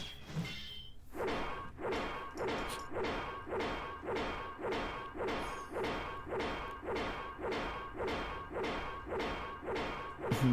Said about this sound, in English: here I'm blocking with my weapon